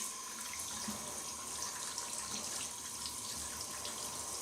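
Hot water runs steadily from a tap onto a knee, a continuous broadband splashing and trickling hiss that stays even and fairly faint throughout.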